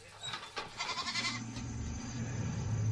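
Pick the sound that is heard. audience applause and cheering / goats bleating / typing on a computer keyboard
goats bleating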